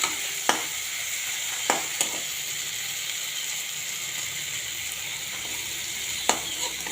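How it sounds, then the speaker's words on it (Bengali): Prawn do-peyaji, prawns cooked with plenty of onion, fries and is stir-cooked in a pan: a steady close sizzle and hiss, broken by occasional sharp clinks of a spatula against the pan. "আজকে চিংড়ি দু পেঁয়াজি ভাজা ভাজা হয়ে গেছে, কষানো।"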